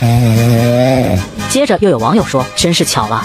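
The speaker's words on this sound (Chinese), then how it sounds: "我家猫咪打呼的声音也很大" A domestic cat snores while asleep, a long steady rasping drone in the first second, followed by a person talking over the rest.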